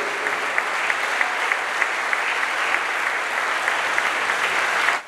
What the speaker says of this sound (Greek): ένα ακόμη δυνατό χειροκρότημα στη μνήμη ενός ανθρώπου